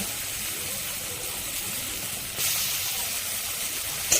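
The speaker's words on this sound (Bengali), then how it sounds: "এবার দিয়ে দিব কেটে রাখা বেগুন আর টমেটো" Cut eggplant and tomato hit hot oil already tempered with dried red chilies and panch phoron, raising a steady, close hiss of sizzling that jumps noticeably louder partway through and carries on with no talk.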